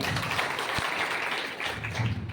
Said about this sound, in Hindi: बहुत बढ़िया, इस बात के लिए जबरदस्त तालियां।